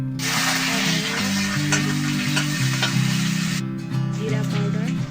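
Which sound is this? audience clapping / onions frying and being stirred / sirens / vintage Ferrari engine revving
onions frying and being stirred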